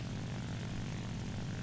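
Ki-84 propeller fighter engine in War Thunder, a loud continuous droning roar with steady low-pitched buzz throughout, no voices.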